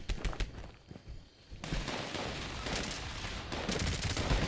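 Gunfire in the video game Fallout 76 rattles in dense, rapid bursts, a short volley up front, then a sustained, steadily louder stream of shots with no talking.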